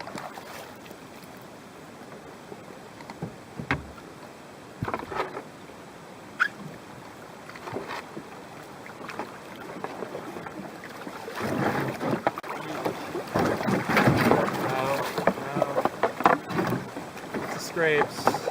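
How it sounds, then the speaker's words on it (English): A canoe is paddled down a shallow, rocky river. Close paddle splashes and rushing water build from sparse strokes to a louder, busier churn, with some wind buffeting the microphone. "I think it's deep enough to paddle again."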